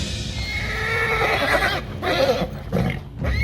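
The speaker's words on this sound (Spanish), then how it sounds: "los caballos cojeaban y relinchaban con creciente frenesí" Horses neighing in a frenzy, several shrill whinnies rising and breaking over a restless background of stamping and snorting, fairly close and agitated.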